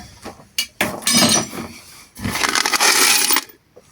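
Loose scrap metal bolts clatter and clink as they are tossed and shuffled, in a few short bursts with a longer rattling stretch near the end.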